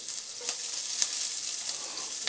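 Onion sizzles in a hot skillet, a continuous close crackling hiss with a few brief sharper pops, steady in level throughout.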